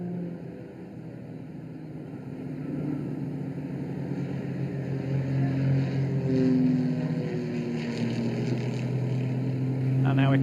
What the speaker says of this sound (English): And Chris is flying the aircraft with the blue spinner today.